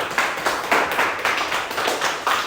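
Rhythmic hand clapping from a small group follows the end of a lecture quiz session, several bursts of claps repeating in a steady pattern.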